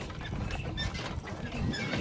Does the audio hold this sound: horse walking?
yes